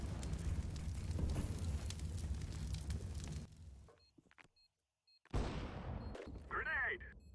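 A grenade blast in CS:GO, a loud roaring burst with crackling debris that fills the first few seconds, then cuts to near silence before a second sharp noise and voices follow.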